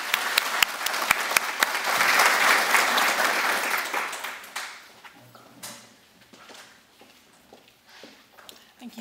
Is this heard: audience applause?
yes